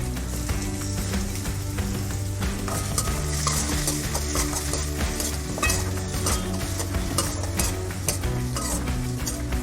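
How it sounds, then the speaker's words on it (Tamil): Onion, garlic and tomato sauté in a pan with a loud, continuous sizzle and busy stirring scrapes, close up and without voices. "வெங்காயம் பூண்டும் நல்லா வதக்கிக்கலாம்."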